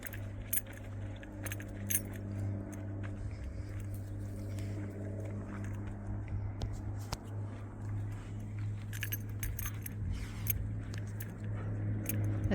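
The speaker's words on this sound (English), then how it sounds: "The jingling you can hear are my keys." Keys jangle steadily in a pocket or hand during an outdoor walk, a light metallic jingling in bursts over a constant low hum of passing traffic.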